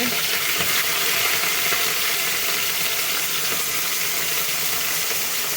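Vegetable curry tempering in hot oil gives off a steady, loud, broadband sizzle that holds evenly from start to finish, close by and without talk.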